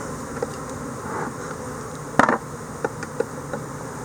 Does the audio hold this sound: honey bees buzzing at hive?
yes